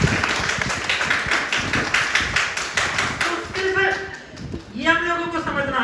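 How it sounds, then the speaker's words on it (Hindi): An audience claps hands in a quick, fairly regular burst of sharp close claps that then stops, leaving someone speaking alone. "ताली बजाना तो जोर से बजाओ"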